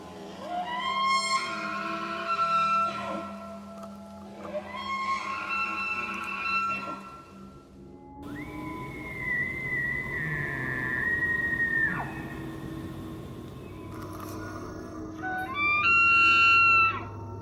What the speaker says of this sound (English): Here are some elk bugles